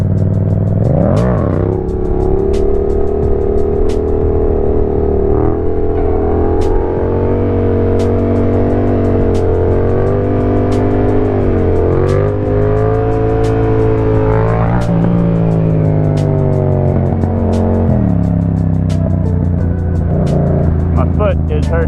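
A Yamaha FZ-07 motorcycle engine holds a loud, steady drone with rises and falls in pitch as the rider works the throttle and handbrake during sit-down to double-peg wheelie transitions, close to the microphone throughout.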